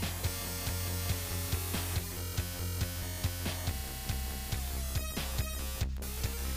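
Retro Spider-Man video game music on the Sega 32X, a synthesized track with a steady thumping beat and buzzy tones, played continuously at moderate volume.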